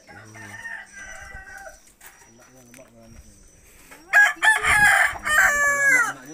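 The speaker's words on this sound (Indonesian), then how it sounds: "Ayam Filipin, ayam Texas guys ya," Roosters of Peruvian, Philippine and Texas breeds crowing at a poultry farm, several loud drawn-out crows rising near the end over softer clucking and background sounds, with people talking.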